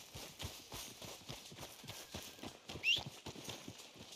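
Steady clip-clop of horse hooves trotting at a regular rhythm in Red Dead Redemption 2, fairly close, with a brief high whinny-like sound near the end.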